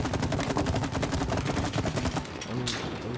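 Rapid gunfire in the video game It Takes Two while shooting at a hook, a steady stream of sharp repeated shots at a fast even rhythm, loud and continuous before a brief trailing sound.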